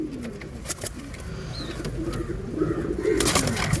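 Pigeons coo softly and repeatedly at close range in a loft with young chicks, with some rustling and a brief wing flutter mixed in.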